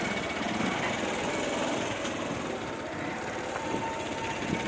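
A motorbike sets off with its engine drone blended into steady, dense wind and road noise that holds at an even level throughout, with no voices.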